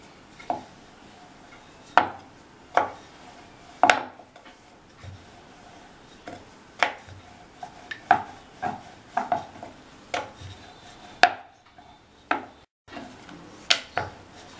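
Poori dough made with chola flour is rolled out with a rolling pin, giving irregular close wooden knocks and taps against the board with soft rubbing between them, alone and fairly quiet.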